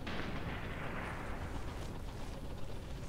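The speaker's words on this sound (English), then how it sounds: "Tank is just going by me now." A tank rolls past in the World War II shooter game Sniper Elite V2, a steady, dense, broadband rumble that holds at an even level throughout with no voices over it.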